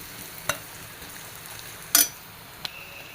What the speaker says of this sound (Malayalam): ഇതാ സവാള നന്നായിട്ടൊന്ന് വഴണ്ടി വരണം.